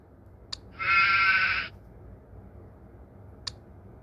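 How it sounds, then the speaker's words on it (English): A single goat bleat, one steady, buzzy cry lasting under a second, plays in a children's farm-animal learning app, framed by two faint clicks. "Goat."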